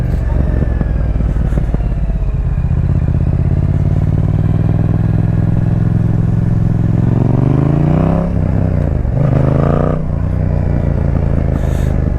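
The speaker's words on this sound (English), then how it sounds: "when you put an exhaust on it, especially this one, it sounds really good." A lightweight naked motorcycle fitted with an aftermarket exhaust, its engine loud and close, revving with rising and falling pitch sweeps and a sharp throttle blip near the end over a steady rumbling idle.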